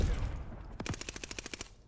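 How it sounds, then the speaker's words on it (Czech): Rapid bursts of gunfire in Call of Duty: Vanguard, a sharp shot followed by a steady string of about ten quick, evenly spaced rounds, moderately loud, with no talking. "On mě střílí přes stěnu."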